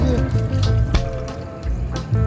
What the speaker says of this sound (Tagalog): At ilagay na natin ang ating tubig.